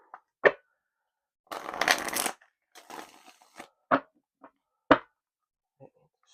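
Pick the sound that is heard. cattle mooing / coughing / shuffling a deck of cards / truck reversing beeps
shuffling a deck of cards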